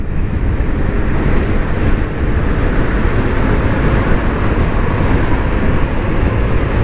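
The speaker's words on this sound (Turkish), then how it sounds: "Muazzam bir rüzgar var." Strong sea wind roars and buffets steadily during a night ride on a Honda PCX 125 scooter, a dense broadband rush with no voices.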